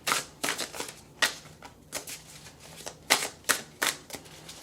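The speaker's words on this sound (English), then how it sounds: "Let's go ahead and shuffle." Tarot cards being shuffled in a series of crisp riffling bursts, about eight close, sharp flurries separated by short pauses, with no voice over them.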